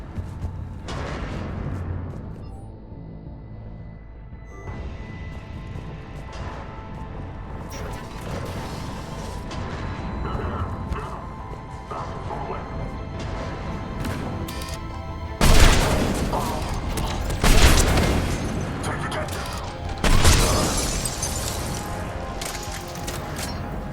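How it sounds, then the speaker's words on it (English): Booming bursts of cannon fire in Mass Effect 3 over a busy mechanical, clanking game soundscape, with three heavy blasts standing out near the end. "Those cannons have to be stopped"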